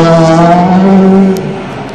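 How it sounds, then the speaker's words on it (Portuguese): A Citroën DS3 R3T rally car at Rally de Portugal 2013 roars past close by, its loud engine note sliding downward as it goes by and then fading quickly into the distance. "Citroën DS3 R3T."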